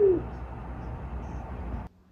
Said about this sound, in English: there's a pigeon sat on the tree right above me